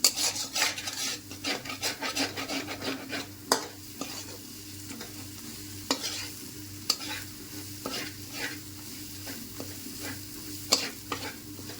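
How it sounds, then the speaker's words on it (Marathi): Mutton and chicken masala being sautéed in oil in a pan, with a spatula scraping and stirring in repeated rasping strokes over a low continuous sizzle, close and fairly quiet with no voices. "ह्याला पण मी चांगलं जोपर्यंत तेल सुटत नाही तोपर्यंत असंच परतून घेणार आहे"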